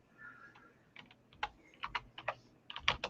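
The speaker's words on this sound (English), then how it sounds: "I'm typing a response to somebody in the chat" Quiet typing on a computer keyboard, a run of irregular clicky keystrokes that comes in short bursts and grows denser toward the end, with no talk.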